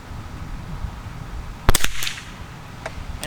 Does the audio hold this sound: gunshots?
yes